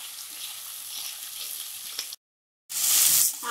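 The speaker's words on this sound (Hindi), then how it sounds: "तो हम प्याज के साथ आलू और गोभी को 1 मिनट तक भून लेंगे।" Onion, potato and cauliflower fry in a pan with a steady, close sizzle that stops for a brief moment, then comes back louder and brighter.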